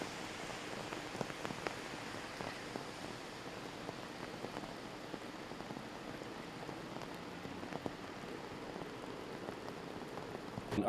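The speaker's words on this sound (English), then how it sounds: "to see this welcome widespread rainfall" Widespread rain falling steadily across drought-hit Australian land, a soft continuous patter of drops on surfaces that holds an even level throughout with no voices.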